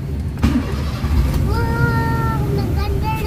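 A Honda Fit engine runs at idle with a steady low rumble, close by, under a voice; partway through, a rising whine joins as the revs climb.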